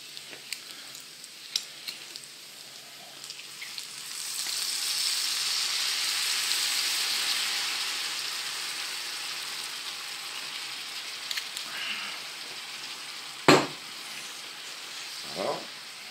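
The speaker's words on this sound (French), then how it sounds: "Maintenant nous allons déglacer avec du vinaigre balsamique." Balsamic vinegar hitting a hot pan while cooking wood pigeon, giving a steady broad sizzle that swells and holds at moderate volume, with a few sharp clinks and taps near the end.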